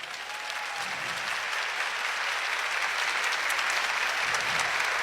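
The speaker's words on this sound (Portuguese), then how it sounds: "E eu queria que você aplaudisse o propósito de Jesus." A church congregation at a Catholic youth camp applauds steadily, a dense, even wash of clapping that holds at full strength for several seconds with no speech over it.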